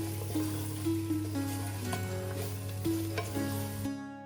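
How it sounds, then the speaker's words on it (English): Coriander and cumin seeds sautéing in a pressure cooker, giving a continuous soft sizzle with a few stirring scrapes, set against a steady low hum and faint tonal music, before cutting off abruptly. "Saute for about 10 seconds, letting the spices release their flavors and vibrant colors."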